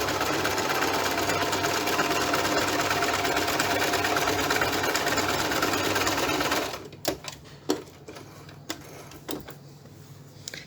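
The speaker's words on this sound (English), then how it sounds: "this is a nice zigzag to neaten your edges" A sewing machine runs steadily and loudly for about seven seconds stitching a zigzag seam to neaten fabric edges, then stops, leaving a few faint clicks and handling noises.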